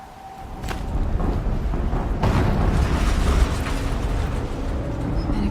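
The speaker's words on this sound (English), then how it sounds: "Explosion." Explosions rip through a Horizon Zero Dawn battle, with two sharp booming bursts early on, then a dense, loud rumble of mechanical clatter and debris that carries on to the end.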